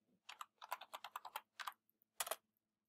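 Someone types a password on a computer keyboard, a close, quiet burst of about a dozen quick clicking keystrokes, then a pause and a final firmer double press like the Enter key; no speech.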